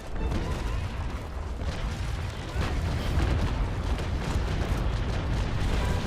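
Cannon fire from a sailing warship in the Naval Action naval battle game, heard as a continuous loud rumbling barrage of booms filling the whole stretch, with no clear gaps.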